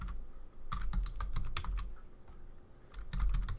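Quick bursts of keystrokes clatter on a computer keyboard while Python code is entered, close but soft, with a short pause midway and no talking.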